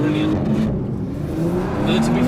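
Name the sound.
2020 Porsche Macan Turbo V6 engine and exhaust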